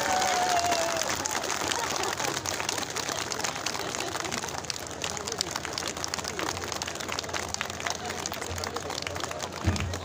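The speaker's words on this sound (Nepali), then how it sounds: "यहाँहरूले उहाँ मञ्चमा आइपुग्दासम्म ताली बजाएर स्वागत गरेर अनुरोध गर्न चाहन्छु।" A political rally crowd in Taplejung, Nepal claps continuously to welcome a central party leader onto the stage, a steady, moderately distant wash of applause with a brief whistle at the start.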